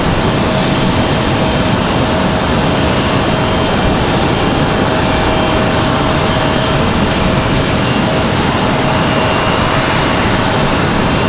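JetBlue jet arriving from San Juan at Raleigh-Durham, a loud, sustained engine roar with a steady whine running through it, continuous and close, with no voices.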